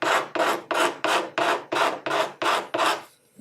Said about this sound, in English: I'm just using a scraper blade to get rid of a lot of those deep file marks